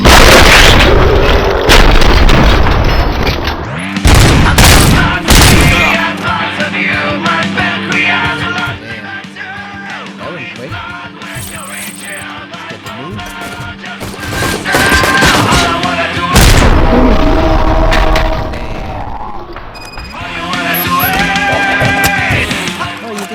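Gunfire and explosive booms from the game RoboCop: Rogue City, a loud, dense barrage of shots and blasts that surges in waves, with music and effects throughout and brief lulls between bursts.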